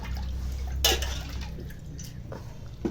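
Water splashes and drips while a cleaned, gutted hilsa fish is rinsed in a kitchen, with one sharp splash, softer trickles and a low steady hum underneath.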